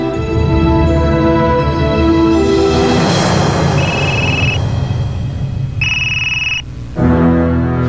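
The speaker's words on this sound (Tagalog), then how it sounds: "Oh, Shailen, napatawag ka?" A telephone rings loudly and continuously close by, with layered electronic ringing tones that shift in pitch and cut in and out, and nobody speaks.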